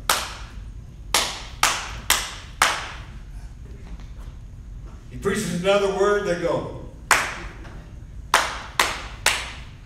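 A preacher claps his hands in sharp, evenly spaced single claps to mimic a church congregation's applause, several in a row, then again after a stretch of his speaking voice, close and loud.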